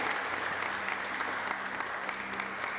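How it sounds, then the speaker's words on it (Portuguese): Steady, dense applause from an audience at a church gathering led by a pastor, continuous and fairly loud throughout with no pauses. "Uma salva de palmas para o Marcelo"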